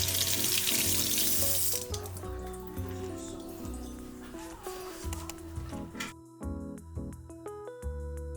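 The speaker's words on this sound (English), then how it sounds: "Gotta wash the hands." Hands are washed at a kitchen sink while cooking, with a loud rush of running tap water that cuts off partway, followed by quieter splashing, dripping and clinking nearby, no voices heard.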